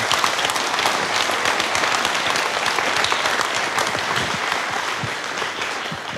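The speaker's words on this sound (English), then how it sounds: "I think one applause at least." Crowd at the closing session of a tech conference, Berlin Buzzwords 2014, applauds the event organizers with sustained, even clapping that fills the hall and fades slightly toward the end.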